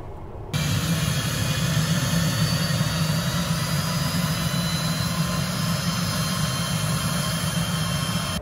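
Pilatus PC-24 jet engines start up, heard from inside the aircraft as a loud, steady, continuous roar with a high whine over it, beginning abruptly after a short quiet moment.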